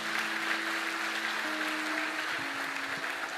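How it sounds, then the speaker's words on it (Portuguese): A church congregation claps along at a worship service, a soft, steady patter of many hands heard from a distance, with sustained organ-like tones lingering behind. "Você pode celebrar e dar um aplauso a Jesus por isso?"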